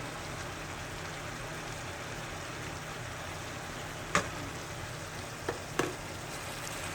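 Ground meat browns in a hot pan for shepherd's pie, giving a steady low sizzle and fry throughout, with a few brief utensil clicks or scrapes near the end.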